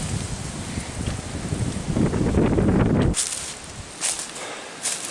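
Strong wind on an open section of the Standing Stone Trail roars and buffets the microphone in heavy gusts, easing into lighter rustling bursts later, with no voices.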